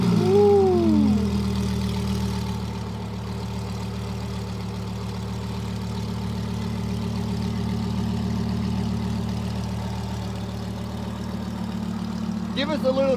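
A supercar's engine idles steadily and close, a low rumbling hum that holds evenly throughout, with a brief rise near the start and a short higher sound near the end.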